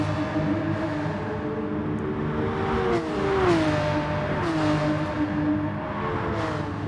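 Porsche SuperCup race car engines roar in Gran Turismo Sport at Interlagos, a steady loud drone with revs rising and dipping through gear changes as cars run close together in a slipstream, with no talk over it.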